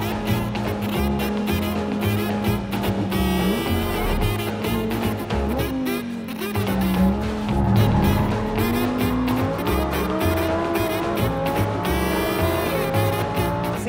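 A Lamborghini Huracan STO drifting, its engine wailing continuously while the tires squeal and skid, loud and close throughout with the pitch rising and falling.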